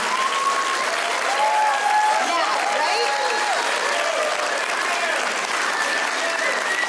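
Graduation ceremony audience applauds families with loud, sustained clapping mixed with cheers and whoops, while a few voices call out over it.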